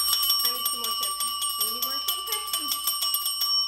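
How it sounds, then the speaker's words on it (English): A handheld boyfriend bell rung rapidly and repeatedly, a bright sustained metallic ringing close by, while people talk over it. "Let's see how well this boyfriend bell really works."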